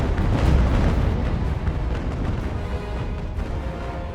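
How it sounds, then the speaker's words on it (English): Wooden sailing warships trading full cannon broadsides in Ultimate Admiral: Age of Sail, a dense rolling barrage of heavy booms merging into continuous thunderous rumble, loud and sustained. "Glory's giving her full broadsides, hoping to reply."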